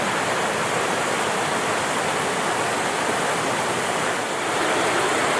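Sams Creek in the Great Smoky Mountains near Tremont flowing steadily, a loud, continuous rushing of water over rocks close by, unbroken and without any talk.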